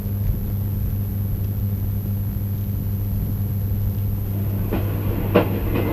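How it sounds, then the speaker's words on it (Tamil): A passing train gives a steady low rumble that runs throughout at moderate volume, with faint rail clicks near the end and no voices. "இன்னும் ஒரு ட்ரெயின் தான்"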